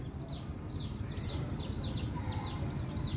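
Small chicks peep in repeated high, sharp chirps, several overlapping calls spaced through the clip over a steady low background rumble, with no talking.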